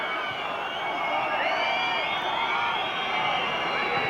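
Football crowd at Haig Avenue during Southport v Notts County in 2002, a steady, dense roar of massed voices with scattered whistles and shouts in the last minute of the match, continuous and fairly close throughout.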